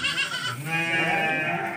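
Goats bleat in a wavering, sustained chorus of several overlapping animals at a rural herding pen, loud and close with no talk over them.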